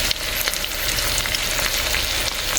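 Onion and garlic sauté in a hot pan while cooking pork chops, a loud, dense, continuous sizzle with small crackles and pops close by, no speech.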